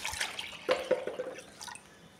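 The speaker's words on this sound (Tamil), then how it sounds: "இதில் வந்து நல்ல தண்ணி வந்து நான் ஊற்றி வச்சுக்கிறேன்" Water poured into a container of washed ration rice to soak it, giving a brief splashing and dripping pour with a few distinct drips, heard close and alone.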